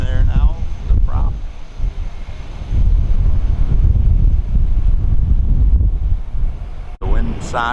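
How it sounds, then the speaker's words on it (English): A strong gust of wind buffets the microphone at an airfield where a Cessna survey aircraft sits with its prop running, a loud low rushing roar under intermittent talk. "Got a gust of wind there now"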